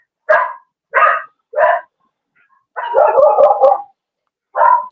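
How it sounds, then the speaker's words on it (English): Rescued dog barking loudly and close in a room, three sharp barks, then a longer run of rapid overlapping barks and yips, then one more bark. "That's why her name is Barky"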